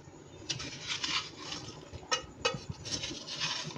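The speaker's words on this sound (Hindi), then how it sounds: "ये देखिए बड़े आराम से इसको प्यार प्यार से हलाएंगे" A spoon stirring shakkar pare through thickening sugar syrup in a pan, quiet irregular scraping and clinking of metal against the pan with a few sharper knocks, close and fairly soft.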